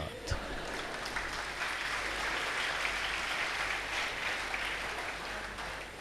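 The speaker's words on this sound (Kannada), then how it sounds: "ಚಪ್ಪಾಳೆ ಹೊಡೆದು ಮರೆತು ಬಿಡಬೇಡಿ" Sustained applause from a lecture audience at a talk, a dense, even wash of many hands clapping at moderate volume for several seconds without a break.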